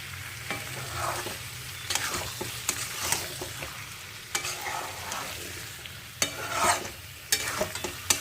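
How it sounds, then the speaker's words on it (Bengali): Poppy seed paste stirred and fried in a pan for a Bengali aloo posto, with a continuous soft sizzle broken by repeated close scrapes and knocks of a spatula against the pan, no talking. "এবার কিন্তু দেখো আমি কিন্তু খুব ভালোভাবে কিন্তু নাড়াচাড়া করে নেব যাতে পোস্তর যে কাঁচা গন্ধটা এটা যেন কিছুতেই না থাকে"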